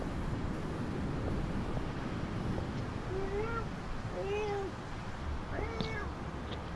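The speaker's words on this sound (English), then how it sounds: "that's a cat" A cat meows several times in drawn-out, rising and falling calls over steady wind and background noise, fairly close.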